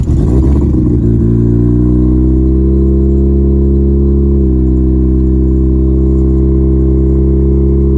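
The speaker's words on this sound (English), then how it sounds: "I'll just fire up the car." A Mazda RX-7 FC cranks briefly, fires and settles into a loud, steady idle with a deep rumble, close by, with a slight shift in pitch partway through and no talking.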